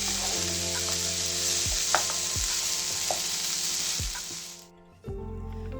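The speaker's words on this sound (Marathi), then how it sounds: "भाजी चांगली एकजीव करून घ्यायची" A vegetable filling for bread rolls sizzles in a pan while a spoon stirs it, with repeated scrapes and taps, then the sizzling cuts out and a low hum follows.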